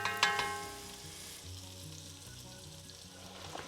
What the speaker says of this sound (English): the yogurt chicken with the spices is going to come in and just sizzle